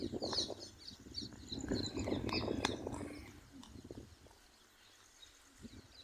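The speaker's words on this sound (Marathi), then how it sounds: "पक्ष्यांचा किलबिलाट तुम्हाला ऐकू येत असेल." Birds chirp and twitter outdoors near a village, with quick high calls scattered over a soft rustling background, busier at first and then thinning to sparse, faint chirps.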